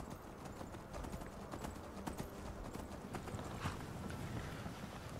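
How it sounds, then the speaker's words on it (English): Hooves of a giant flaming skeletal horse mount in the video game Skyrim, galloping in a steady quick clip-clop rhythm, fairly faint and continuous. "we're totally going on horseback"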